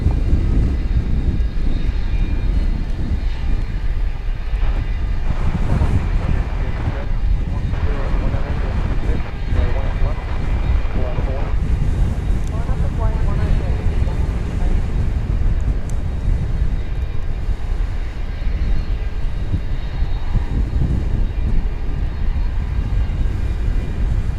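An airliner at Dallas/Fort Worth International Airport rumbles steadily and loudly, a broad continuous engine roar with wind-like noise that persists throughout without a break.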